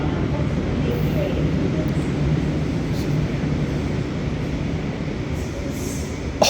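Sydney suburban train set H52 running through Hurstville station: a steady, broad rumble of wheels and carriages, fairly loud and continuous, with a brief clank near the end.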